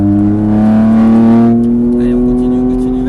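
Race car on the Mireval track, engine note loud and close, rising steadily in pitch as it accelerates, with a faint voice in the background.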